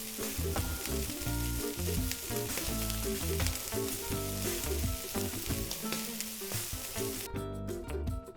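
A garlic and herb branzino sizzles loudly in oil in a pan just after being turned, a dense continuous frying hiss over a steady low tonal background.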